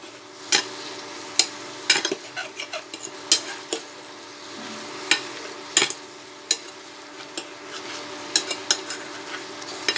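Chicken tossed with turmeric powder and a pinch of salt in a pan, making a steady run of scraping, clinking spoon strokes over a soft sizzle, close by with no talk.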